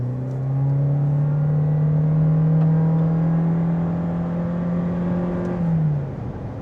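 A 2025 Toyota Corolla Cross Hybrid Nightshade accelerates hard onto a highway, its engine droning at steady, loud revs as a rising whir builds for about five seconds before easing off, with no talking over it.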